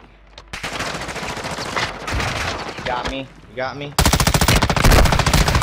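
Rapid automatic gunfire in Warzone 2, a multiplayer shooter, rattles in dense bursts, heaviest and loudest near the end, with players talking over the shooting.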